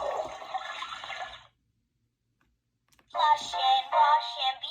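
Toilet flush sound effect from a children's potty-training sound book: a watery rushing burst, a pause of silence, then a louder, fuller gushing flush, close and clear with no talking.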